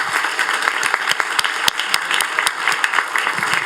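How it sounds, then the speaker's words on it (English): A ceremony audience at a 2023 scholarship awards event claps steadily for the sponsors. The applause is full and fairly loud, with sharp individual claps standing out over the crowd, and runs for a few seconds with no voices. "join me in a round of applause for the sponsors that are here"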